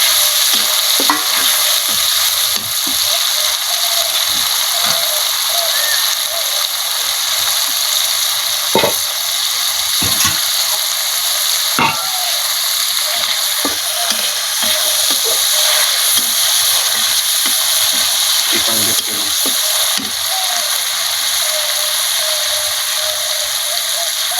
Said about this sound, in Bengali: রসুন, জিরে, গরম মশলা সব বেটে নিয়ে আসি, এবং তেলের উপর দিয়ে দেবো। ভালো করে মশলাটা ভেজে নেবো।